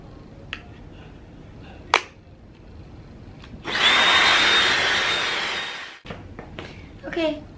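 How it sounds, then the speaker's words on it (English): A Dyson hair dryer blows with a steady rushing hiss for about two seconds, close by, between scattered clicks and handling noises. "now I am just gonna blow dry my hair, and I'm using Dyson blow dryer"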